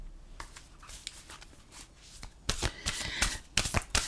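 Oracle cards being shuffled by hand, a few soft riffling passes that grow into louder, crisp flutters near the end, close by and with no talking.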